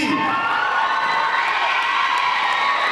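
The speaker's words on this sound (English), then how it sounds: "we want you to give them a big, big round of applause for Jordaniel Riley and Stephen Howard" A dense, continuous crowd roar of cheering and whooping at a pep rally, loud and steady for the whole stretch with no pauses.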